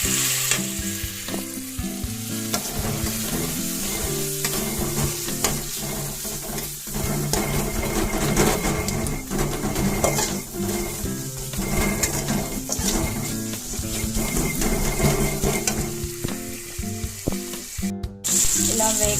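Fish curry bubbling and sizzling steadily in a pan, a dense, continuous frying hiss with occasional stirring clinks and scrapes, close and loud throughout with no talking.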